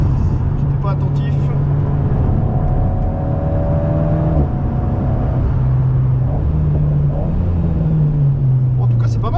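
An Alpine car laps the Magny-Cours circuit, its engine droning loudly and steadily from inside the cabin with shifting pitch as it accelerates and eases, while people talk over it.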